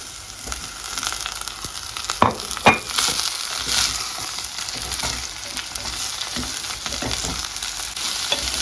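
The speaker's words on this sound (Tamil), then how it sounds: "இப்போ வெட்டி வச்சு இந்த பாவக்காய் சேர்ப்போம்." Chopped bitter gourd fries with fenugreek seeds in a pan, giving a loud, dense, crackling sizzle throughout, punctuated by several sharp scrapes and knocks of a spoon stirring the vegetables.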